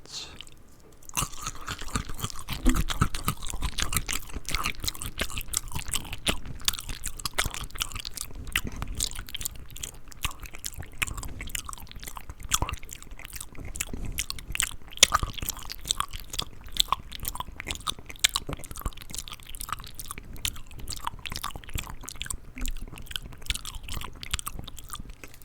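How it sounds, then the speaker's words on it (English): Peanuts from a bowl of mixed nuts are chewed steadily and close up for about twenty-five seconds, a continuous run of crisp crunches and wet mastication with no talking. "Chewing them a lot. Gonna make peanut butter in my mouth."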